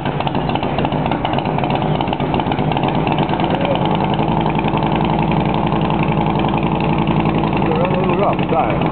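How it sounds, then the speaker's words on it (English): A Hummer engine runs steadily and loudly up close, giving a rough, continuous idle with a thick low rumble and muffled voices nearby. "Alright, let's hear what that Hummer sounds like."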